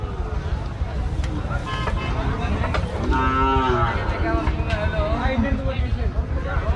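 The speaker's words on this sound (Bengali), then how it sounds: "গরুগুলো মাত্রই এসে আনলোড হয়ে খাটালে বাধা আছে" Calves at a busy cattle market in Rajshahi moo in drawn-out calls, one loud nearby call standing out over a steady background of crowd babble and people talking.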